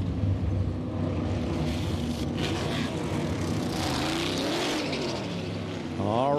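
NASCAR race cars on pit road during pit stops at the All-Star Race in North Wilkesboro, a dense continuous engine roar with revving and cars passing close by, with a rising pitch toward the end.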